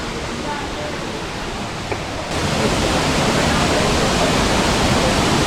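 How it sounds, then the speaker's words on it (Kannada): Ermayi waterfall near Dharmasthala, running low on water in December, roars as a steady broadband rush; it is softer at first, then swells louder and fuller at mid-clip and holds, with no voices. "ಇದೆ ನೋಡಿ ಎರ್ಮೈ ವಾಟರ್ ಫಾಲ್ಸ್"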